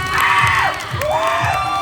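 An audience at a Thai drama fan-meeting event cheering and whooping, with high shrieking voices rising and falling over a steady crowd roar, loud and close throughout.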